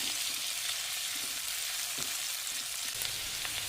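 Chopped onions with a bay leaf frying in oil in a pan for an egg curry, a soft, even sizzle at low level with a few faint stirring scrapes.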